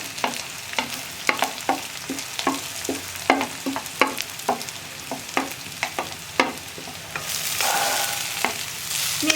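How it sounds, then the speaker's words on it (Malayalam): A spoon scrapes and stirs a coconut, onion and green chilli paste in a hot pan for a tomato thoran. Steady, rhythmic strokes ring out close and clear over a soft sizzle that swells toward the end, with no talking. "ഇനി ഇതെല്ലാം ചേർത്ത് നന്നായിട്ടൊന്ന് ഇളക്കി 1 മിനിറ്റ് ഒന്ന് ഇളക്കിക്കൊണ്ടിരിക്കുക."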